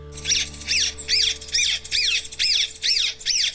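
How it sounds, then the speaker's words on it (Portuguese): Recorded bird songs played from a small speaker to attract birds: repeated calls in quick bursts, about eight rising-and-falling chirps in a steady rhythm, loud and close with a faint hum underneath. "uma pequena caixa de som com diversos cantos de pássaros é usada para atrair as aves."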